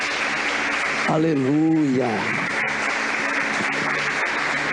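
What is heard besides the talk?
church congregation applauding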